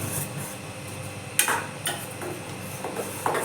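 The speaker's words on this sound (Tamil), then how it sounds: "அடி பிடிக்காமல் கிண்டிக்கிட்டே இருக்கலாம்." Beetroot jam stirred in a kadai on a stovetop, with soft scraping and a few sharp metallic clinks of the spoon against the pan, fairly quiet and irregular.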